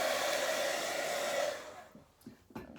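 Hairdryer drying paint on a gel plate, blowing with a loud, steady whirring hiss for about a second and a half, then cutting off, followed by a few quiet handling sounds.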